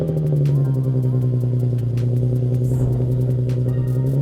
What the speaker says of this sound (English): let's do a cold start with my current setup